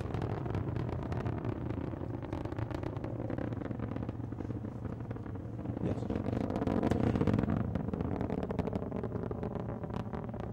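A Proton rocket lifting off and rolling shortly after launch, its engines a steady, continuous broadband roar heard from a distance, swelling slightly partway through with no speech.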